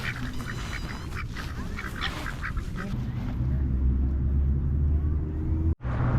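Large water birds on a lake lined with houses give a rapid, repeated series of loud honking calls, then fall quiet under a low, steady rumble like passing traffic that ends with a brief dropout.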